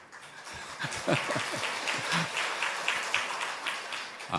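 A church congregation gives moderate, steady applause during a service marking the completion of a new-members course, with scattered claps and a few low voices or chuckles mixed in.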